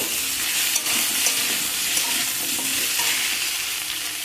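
Potato chunks and raw green tomatoes fry in a pan for a mourala fish curry, a dense continuous sizzle with steady stirring scrapes, close and loud throughout.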